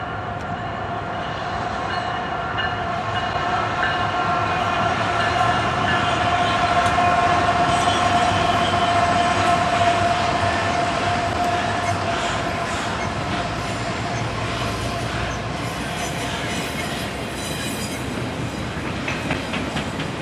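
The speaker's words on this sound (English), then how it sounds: "we then saw an eastbound BNSF intermodal train come by" An eastbound BNSF intermodal freight train passes close by with a steady, loud rumble and rhythmic clatter of wheels over rail joints, a sustained tonal squeal running through it, and no talking.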